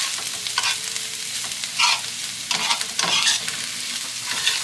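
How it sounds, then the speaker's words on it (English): Onions and mushrooms sauté in a pan, producing a continuous soft sizzle broken by several louder scraping bursts of stirring at close range, with no voices. "I'll only be sauteing this for another few seconds"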